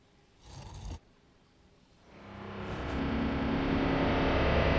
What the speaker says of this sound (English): Yep, that is the sound of water moving.